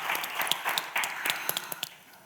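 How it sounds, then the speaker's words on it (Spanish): An audience at a talk on international mediation claps in a brief scattered round, sharp irregular hand claps that thin out and fade after a couple of seconds. "Si quieren aplaudir, pueden aplaudir."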